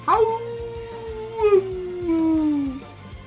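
A dog gives one long, close howl that slides gradually downward in pitch and wavers near the middle, with low background hum and no talking.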